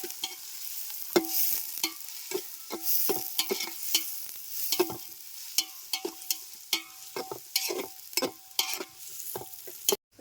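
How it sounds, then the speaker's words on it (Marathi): Onions sizzle in a pan over a wood-fired stove, sautéed until soft, while a spoon scrapes and stirs in irregular clacks, close by with a continuous hiss underneath. "कांदा आता मऊ होईपर्यंत व्यवस्थित असा परतून घेते."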